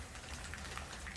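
Outdoor rain falls as a soft, steady hiss of drops pattering on surfaces, faint and continuous with no voices over it.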